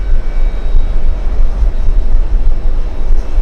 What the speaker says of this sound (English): Emirates A380 over Long Island